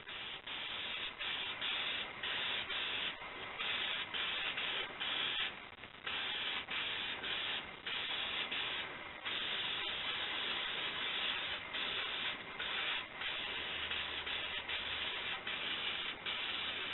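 Oil sprayed from a can onto a Max Flow air filter element on a workbench: a continuous close hiss of spray, steady and loud, with brief pauses and changes in intensity.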